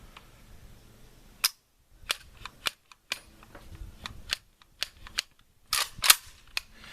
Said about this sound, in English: it keeps bump firing